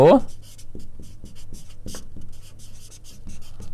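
A pen scratches short strokes on paper while someone writes out a math proof by hand. The writing sits close and soft beneath a person speaking continuously.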